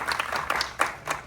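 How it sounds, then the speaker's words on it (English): A short burst of scattered clapping from an audience at a Los Angeles film premiere for a Pakistani movie, a handful of distinct nearby claps over faint room noise. "A big round of applause to Tavish, please."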